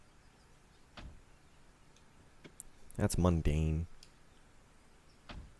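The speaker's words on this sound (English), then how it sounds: "let's see what this door sounds like first of all" A 2003 Toyota Celica door in the racing game Forza Horizon 5 shuts with a light, economy-car thunk amid a few small clicks, and someone speaks briefly over it.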